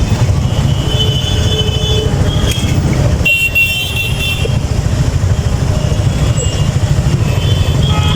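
A metro rail train rumbles past overhead on an elevated line in Dhaka between Uttara and Mirpur, a steady loud roar of wheels with faint squeals and road traffic mixed in, continuous for the whole stretch.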